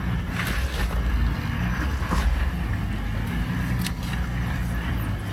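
A Toyota Land Cruiser 300 on Geolandar A/T4 tires with lowered pressure climbing a rocky off-road slope, heard from inside as a loud, steady engine and road rumble with wind noise and scattered knocks.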